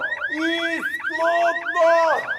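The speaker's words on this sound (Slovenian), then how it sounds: "Če lahko ta alarm izklopite, pa še sebe ne slišimo tega hrupa" A car alarm blares close and loud, cycling through rapid rising electronic whoops layered over steady warbling tones, repeating in quick bursts with no pause.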